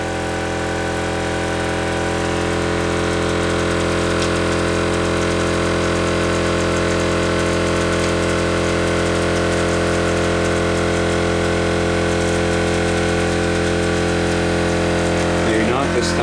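A Ford Model A car engine runs steadily at close range, a loud continuous droning hum with a strong even firing pulse that holds level throughout, with talk faintly beneath it.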